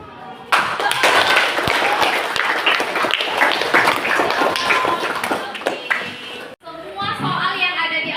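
Classroom applause from a group of pupils in an Indonesian lesson, dense clapping that starts abruptly and holds steady for about six seconds, with children's voices chattering through it before it cuts off.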